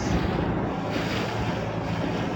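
Steady roar of sea waves and wind sweeping over open water in Manila Bay, loud and continuous with no voices.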